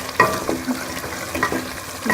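Chicken biryani masala fries in a pot while a spoon stirs it, making close, uneven scraping strokes over a low sizzle.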